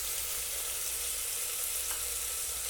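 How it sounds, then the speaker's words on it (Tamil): Onions, green and dried red chilies and curry leaves fry in oil in a pan, an even, fairly quiet sizzle that carries on without break and without talk. "இப்போ வெங்காயம் நல்லா வதங்கட்டும். கூடவே மிளகாய் சேர்த்துக்கலாம்."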